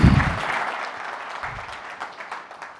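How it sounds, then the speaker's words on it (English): Audience at a New York business technology conference breaks into applause, a burst of clapping that starts strong and tapers off into scattered claps over a few seconds. "Let's all give Simon a round of applause."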